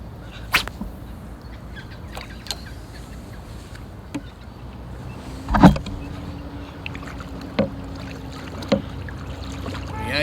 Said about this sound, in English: using my little custom paddle